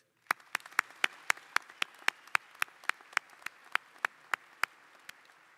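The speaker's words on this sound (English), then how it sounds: "A round of applause for our graduates." At a Dale Bumpers College of Agricultural, Food and Life Sciences commencement, clapping for the graduates arrives as a steady run of crisp, evenly spaced claps that fades slightly toward the end.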